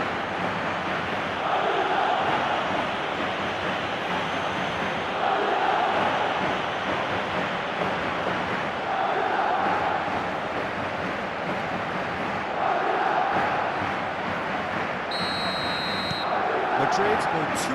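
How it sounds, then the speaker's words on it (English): A stadium crowd chanting in an eFootball match, a dense, continuous roar that swells rhythmically every few seconds, with a voice speaking over it. "The crowd are calling for this to be put to bed."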